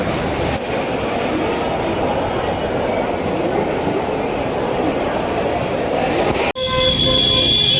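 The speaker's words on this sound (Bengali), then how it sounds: "আমাদের ট্রেন এখন চার্জগেটে পৌঁছে গেল আর ট্রেন থেকে লেগে পড়লাম" A Mumbai local train pulls into Churchgate station with a loud, steady rumble of rolling carriages and wheels. After a brief cut near the end, a horn toot and station noise follow.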